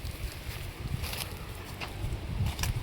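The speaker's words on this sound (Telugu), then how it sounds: "అది ట్రాక్టర్ సౌండ్." A tractor engine runs far off as a low, steady rumble, partly buried under gusty wind and rustling trees.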